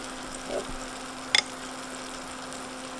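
Frikadeller, Danish meatballs, fry in butter in a pan with a soft, even sizzle that holds steady throughout, broken by a couple of faint clicks.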